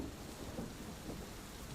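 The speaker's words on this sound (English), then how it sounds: "The rain. You can hear it," Rain beats against a window pane in a steady dense hiss with a low rumble beneath, continuous and soft, with no voices.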